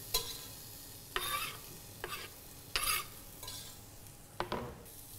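Onion and garlic sizzle softly in hot oil while a utensil stirs the pan in several scraping strokes spread across the moment, quiet and close.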